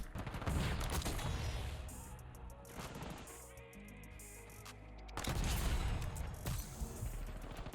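Gunfire in the video game Black Ops 6 punches through plywood in dense, loud bursts with a quieter stretch in the middle before another heavy volley.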